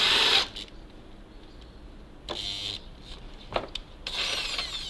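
A drill bores 12 mm holes through metal on a ZIL-131 truck body, its grinding, rubbing whine starting and stopping in several bursts with no talk over it.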